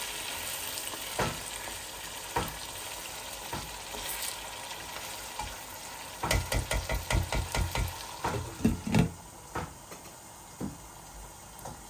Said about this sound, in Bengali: আমার চিকেনগুলা বুনা বুনা হয়ে যাক ভাই বোন।